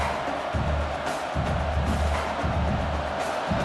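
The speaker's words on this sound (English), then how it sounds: "The roar of the crowd trying to fuel this defense to keep them pinned in their own end." A football stadium crowd at a Michigan vs Oregon game roars in a dense, continuous wash of noise, loud and sustained, with no separate voices standing out.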